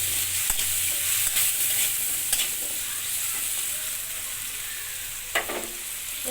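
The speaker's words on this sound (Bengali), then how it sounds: "ভালো করে ভেজে নেব বন্ধুরা লবণ হলুদ দিয়ে" Sliced potatoes frying in a pan with salt and turmeric, a steady close sizzle with a few sharp scrapes and clacks of stirring, no one talking.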